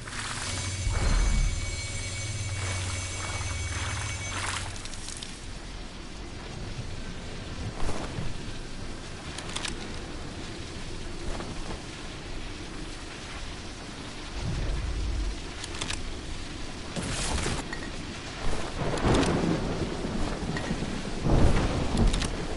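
Thunder and steady rain fill a Fortnite end-of-season live event, with low rumbling booms early and more thunder cracks and swells near the end over a constant hiss of rainfall, no voices.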